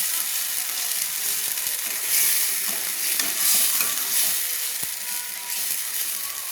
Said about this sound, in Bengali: মশলাটা কষানো হচ্ছে লাল লাল করে, ততক্ষণ আমি নাড়তে থাকবো